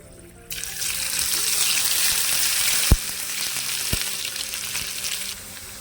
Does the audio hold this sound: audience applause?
no